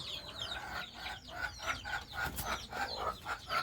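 Chickens cluck in a steady, repeated series of close, fairly loud calls, with a rooster-like crow mixed in. No one speaks.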